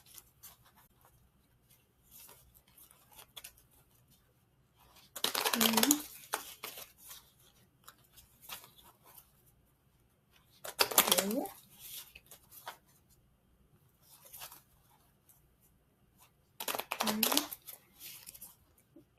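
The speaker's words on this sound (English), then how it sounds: "I'm going to give the cards a couple of shuffles." Three separate bursts of tarot cards being shuffled, each a brisk riffling flutter lasting about a second, spaced several seconds apart in a quiet room where a person speaks softly between them.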